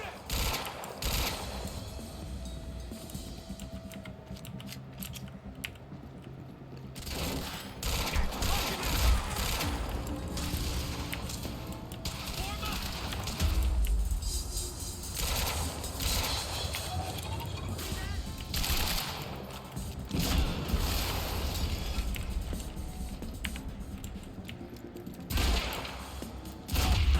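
A time gun shootout in the video game Quantum Break, with sustained bursts of automatic gunfire and thumping impacts layered over game sound, loud and continuous throughout, with voices shouting in between.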